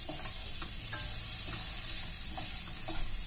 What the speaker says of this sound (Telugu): ఈ ఉప్పుని పసుపుని ఒకసారి బాగా కలుపుకోవాలి